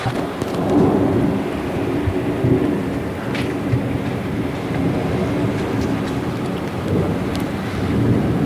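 A moderate thunderstorm with heavy snow over the mountains at Sallanches in late February gives a low, continuous rumble under a broad steady hiss, with swells in loudness across several seconds and no voices.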